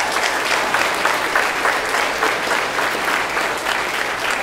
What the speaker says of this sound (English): Let's just give a round of applause to all the staff members who helped make this event possible